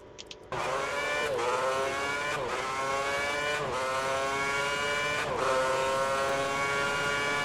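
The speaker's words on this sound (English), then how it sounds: "get into practice and try and relearn this fast street circuit. And while I drive around, and you'll probably see me spin or crash" A Formula One car in a racing video game lapping the Valencia street circuit, 2010 season: a loud, steady high-pitched engine whine rising through the gears, with several brief dips at shifts, heard alone.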